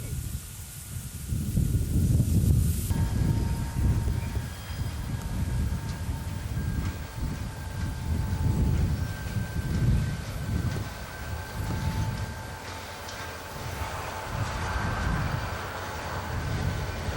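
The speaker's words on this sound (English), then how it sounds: "Here at Walbridge, on the CSX, comes the Grand Trunk train." A Grand Trunk train rumbles past on the CSX line at Walbridge. There is a loud, sustained low roar with rhythmic pulsing from the cars, a long horn-like tone overhead, and wind buffeting the microphone.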